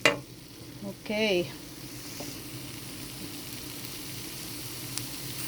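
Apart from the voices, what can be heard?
onion, garlic and ginger frying in a pan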